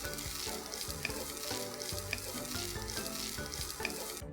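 Sliced capsicum tossed and stir-fried for a Chinese-style crispy chicken dish sizzles loudly and steadily, with repeated scraping and clinking of the utensil against the pan and no talking.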